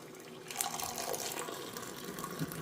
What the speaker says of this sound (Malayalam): നമ്മുടെ ചായയും റെഡിയായി ഗ്ലാസ്സിലോട്ട് ഒഴിക്കട്ടെ